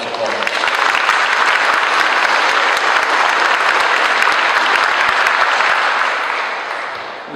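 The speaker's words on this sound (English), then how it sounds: "So just give them a round of applause for them supporting us." A loud, sustained round of crowd applause for sponsors at a law enforcement salute event, dense clapping holding steady for several seconds before easing off slightly at the end.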